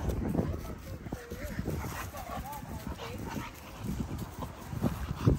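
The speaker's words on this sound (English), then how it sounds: "See, my dog's playing rough over here," XL pitbull dogs play rough nearby, with low growls, whimpers and short yips mixed with scuffling. Someone talks over them throughout.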